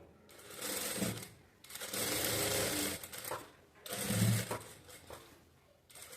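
A sewing machine stitches a blouse in short bursts, each a close, busy mechanical rattle lasting a second or two, separated by quiet pauses as the fabric is shifted.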